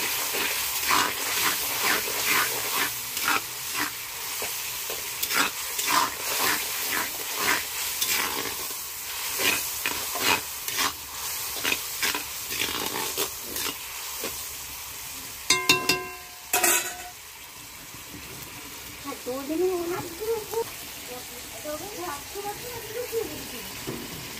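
Mustard water poured into a hot pan on a village clay stove, crackling and sputtering in a run of sharp pops that later thin out while a voice and other household noises come in.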